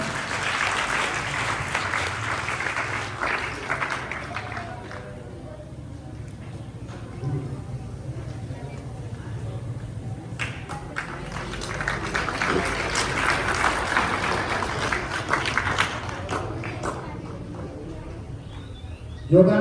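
Applause at a government school event welcoming a visiting doctor, a crowd clapping in waves that swell and fade, with voices and background murmur mixed in.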